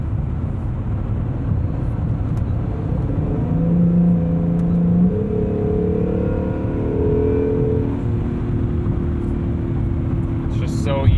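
A 2020 Acura NSX driving at speed, its engine droning steadily beneath heavy road noise inside the cabin, with a low tone rising and shifting midway as the revs change.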